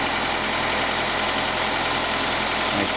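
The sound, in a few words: car engine idling with repaired quiet exhaust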